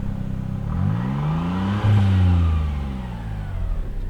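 A 1991 Suzuki Cappuccino turbo kei car's small engine revs up from idle, rising to a strong peak in the middle and easing back down, close and loud with no voices.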